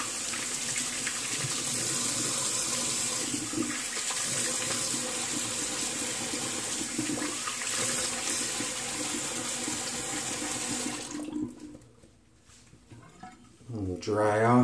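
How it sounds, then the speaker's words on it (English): A bathroom faucet runs steadily for a cold water rinse after a wet shave, a constant close hiss of splashing water lasting about eleven seconds before it shuts off, followed by quiet and then a brief rustle. "Cold water rinse."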